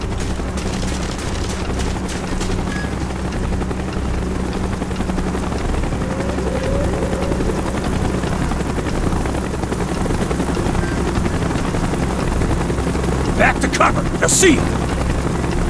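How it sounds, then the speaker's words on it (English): Helicopter in Call of Duty Black Ops, a steady rotor drone under distant gunfire, with brief speech. "Chopper's inbound."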